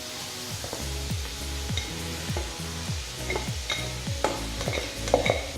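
Pork innards being stirred in a pan with garlic, ginger and onion, a steady close sizzle with repeated rhythmic scraping strokes of a utensil against the pan, and no talking.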